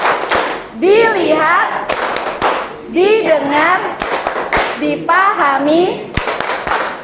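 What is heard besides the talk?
class clapping the 'tepuk fokus' rhythm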